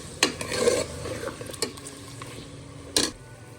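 Garlic and ginger being stirred into a pot of mutton degi korma, with a few sharp spoon scrapes against the pan over a soft sizzle, close by and without talk.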